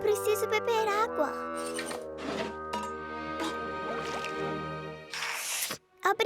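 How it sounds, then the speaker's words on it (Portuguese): Water is poured and gulped in the Masha and the Bear Christmas cartoon, with squishy drips and a short liquid splash under a girl's chatter and a music score. "Eu preciso beber água."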